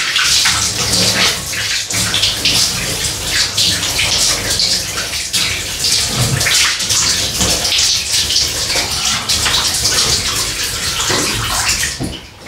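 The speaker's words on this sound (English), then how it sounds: "rinse under the tap so you can hear" A shaving razor is rinsed under a running tap, a loud, steady gush of splashing water that continues almost unbroken for about twelve seconds, close by and with no talking.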